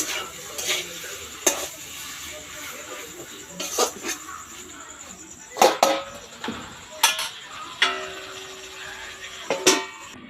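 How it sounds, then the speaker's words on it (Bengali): Chicken skin cooks in a pan while a utensil stirs it, giving intermittent close scrapes and clinks over a faint, steady sizzle. "দেখো ঢাকা দিয়ে রেখেছিলাম স্কিনটাকে এবার দেখো নাড়া দিচ্ছি এটা আস্তে আস্তে মজে যাবে"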